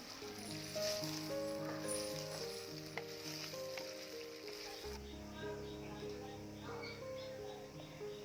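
Potato pieces sauté in oil for a Chettinad-style prawn gravy, giving a steady, close sizzle and crackle throughout. A few soft stirring scrapes run over it, with no voice heard.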